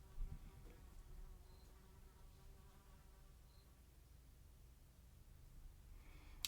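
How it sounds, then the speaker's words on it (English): A loud housefly buzzes close by indoors, a steady droning hum that lingers through the whole stretch with slight swells as it moves around. "I don't know if you just heard that loud ass fly that just came buzzing in through here"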